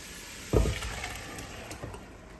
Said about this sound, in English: Now you do not fry this for long because you do not want to burn the garlic.